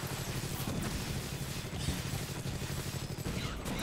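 Gunfire from the arena game Awesomenauts forms a dense, continuous rattle of rapid shots with crashing impacts mixed in. It stays loud and busy throughout.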